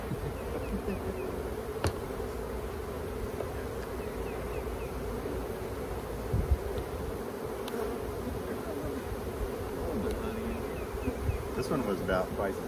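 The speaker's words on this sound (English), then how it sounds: "Oh, the bees, not you." Honey bees buzzing around a hive during hive splitting outdoors, a dense continuous hum with individual bees passing close, steady throughout and fairly quiet, with occasional faint talk.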